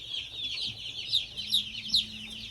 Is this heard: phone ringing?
no